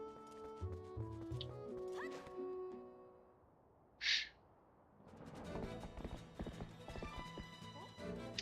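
Horse hooves clip-clop on and off in the video game Twilight Princess HD with its soundtrack and effects, broken by a brief hissing burst, then galloping resumes under layered music.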